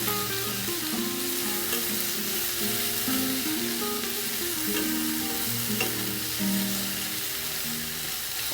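Capsicum and onion frying in a pan for paneer masala, a steady close sizzle with occasional stirring scrapes running throughout, no voices.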